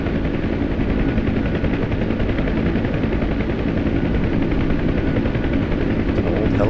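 An OH-58D Kiowa helicopter in DCS World flying on a convoy escort makes a loud, constant rotor and engine roar close by, dense and unbroken throughout, with possible gunfire mixed in.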